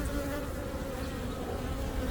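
Honeybees drone in a continuous, dense buzz while being shifted from one hive to another, a close, steady swarm hum without pauses.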